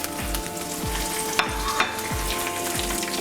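Cumin, mustard seeds, curry leaves and dried red chilies frying in hot oil over a medium flame for a Telugu drumstick-leaf tempering: a steady close sizzle and crackle, with low repeating thumps underneath.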